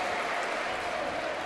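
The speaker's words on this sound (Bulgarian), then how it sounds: "Публиката ръкопляска на Златин Георгиев" A basketball crowd in an arena applauds a departing player with a steady, moderately distant wash of clapping that lasts throughout, with no clear voices over it.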